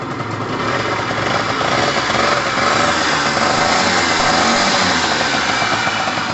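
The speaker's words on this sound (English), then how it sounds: "You can tell that that's a great engine there" A 50cc two-stroke engine on a Pulse Force bike runs steadily at a fast idle, a buzzy, continuous drone with a rattly edge, close by and loud throughout.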